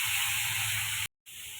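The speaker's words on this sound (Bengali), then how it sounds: "মাছটা ভেজে নেব।" Rohu fish pieces coated in turmeric and salt frying in hot oil, a steady loud hiss that cuts out briefly and then resumes.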